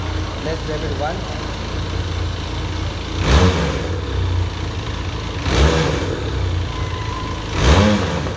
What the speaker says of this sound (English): Let's rev it once.